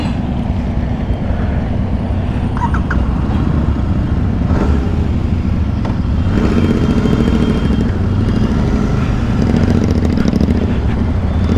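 A group of eleven motorcycles, including Royal Enfield Super Meteors and Himalayans, rides together, producing a loud continuous engine roar and wind rush throughout, with a brief word spoken.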